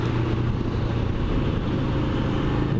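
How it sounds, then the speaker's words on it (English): Royal Enfield Scram motorcycle engine with a rattling, hammering fault, running steadily at close range with a constant low throbbing drone and no speech. "That's some sort of rattle in the engine"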